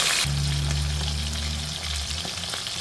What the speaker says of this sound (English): They're frying just right